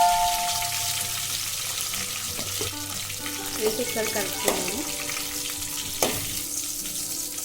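Curry leaves and two dried red chillies fry in hot oil with cumin and mustard seeds for a tomato pickle: a steady close sizzle with a few stirring clinks, while someone speaks over it.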